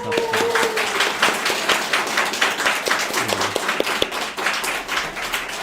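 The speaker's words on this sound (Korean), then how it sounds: "우리 한번 박수 합시다" A church congregation claps together at a Sunday service after two young members are confirmed, a steady crackle of hands filling the room with a few faint tones and murmurs underneath.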